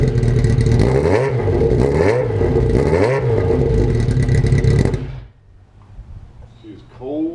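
Motorcycle engine with a cheaply repacked muffler, freshly reassembled and started cold, revving loud and close in three rising-and-falling blips over a steady idle, then cutting off abruptly to near silence with faint clatter.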